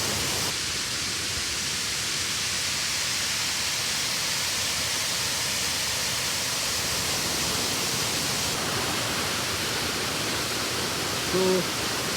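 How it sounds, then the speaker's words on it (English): A waterfall on the Thiba River in Kirinyaga roars as a dense, steady broadband rush throughout, close and loud, with a brief faint tone near the end. "that's the waterfall"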